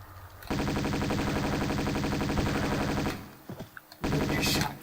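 Rapid automatic gunfire rattles in Tomb Raider II, a loud sustained burst of fast repeated shots lasting a few seconds, then a short lull with scattered clatter before another loud burst resumes.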